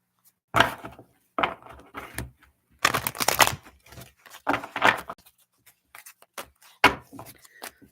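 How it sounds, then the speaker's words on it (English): Tarot cards are shuffled by hand in several separate bursts of quick riffling and tapping, close and fairly quiet, with short pauses between them. "Let me shuffle a couple of times here."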